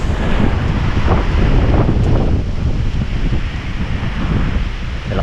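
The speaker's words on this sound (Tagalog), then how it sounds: "Malakas ang hangin." Strong wind buffets the microphone in a continuous loud roar, gusting steadily throughout with no other sounds standing out.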